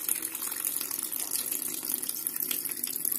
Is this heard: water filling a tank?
yes